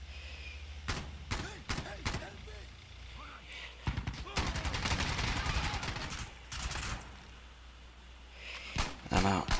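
Heavy gunfire from the tactical shooter game Insurgency Sandstorm: loud single shots, then a long dense burst of automatic fire in the middle, with more sharp shots near the end and faint voices underneath.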